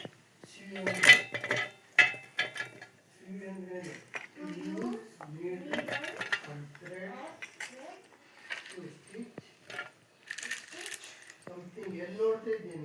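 Small clinks and clatters of chopped ginger and green chillies dropping into a metal mixer jar come in bursts, with a person talking in between.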